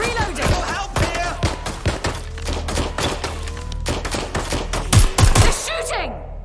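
Enemy gunfire in the video game Watch Dogs: Legion, a dense run of sharp single and rapid shots spread across the whole stretch, loud and punchy, with in-game voices shouting amid the firing.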